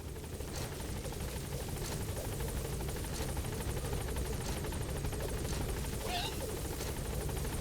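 Helicopter in the video game Metal Gear Solid V, a continuous loud rotor drone with a low steady chop and engine whine, holding evenly throughout with no breaks.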